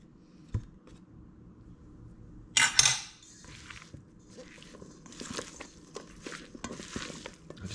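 Fresh steamed crab meat, lightly seasoned, folded into crab cake mixture in a bowl: soft clinks and scrapes of a utensil against the bowl, a sharp clatter near the start, then quiet, irregular stirring and squishing sounds close by, with no talking.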